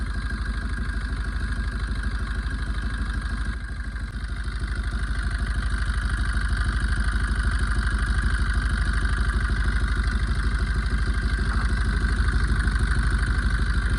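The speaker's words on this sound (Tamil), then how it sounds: "என்ஜினோட ஸ்லோ ஸ்பீட்லேயே வந்து பாருங்கள் ஒரு என்ஜினோட அம்மிங் சவுண்டு வருது, ஒரு மிஸ்ஸிங் ஆகுது" A Maruti Swift with a head gasket fault idles and runs at low speed, a continuous close engine hum with a faint uneven misfire in the rhythm, steady throughout with no voices.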